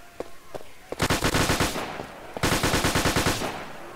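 AK-47 assault rifle fire in the Garry's Mod sandbox game: a few single shots, then two loud, close bursts of rapid automatic fire, each lasting over a second, with no talk over them.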